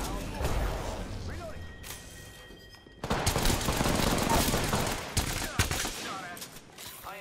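Rapid bursts of gunfire in a squad-based video game firefight: a quieter stretch, then a loud, dense fusillade of overlapping automatic shots and impacts, with players talking over the action.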